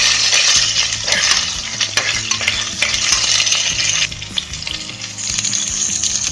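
Vadam, onion and curry leaves fry loudly in hot oil for sambar, a dense continuous sizzle with a spoon scraping and stirring against the pan throughout.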